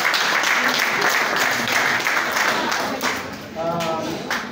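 Wedding guests at a celebration at a Kigali school in Gasabo clap together in a steady, fairly loud burst of applause that thins out toward the end, with faint voices mixed in.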